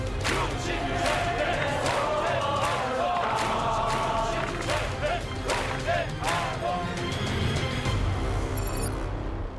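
A large crowd of student protesters shouts and roars together, dense and continuous, with individual cries rising above a loud, surging wall of voices.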